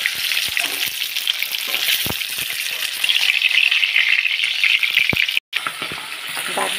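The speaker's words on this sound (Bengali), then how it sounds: "মাছটা ভাজা হয়ে এসছে, কারণ আমি যেহেতু সর্ষে দিয়ে করবো সেহেতু খুব ভাজবো না, অল্পই ভাজবো।" Rohu-type fish fries lightly in hot oil in a kadai, a loud continuous sizzle with occasional clicks and stirring knocks and one brief cut near the end.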